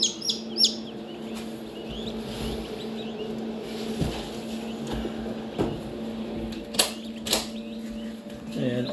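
Newly hatched mandarin ducklings peep in short, high chirps over a steady farm hum, with a few sharper bursts standing out near the middle of the stretch.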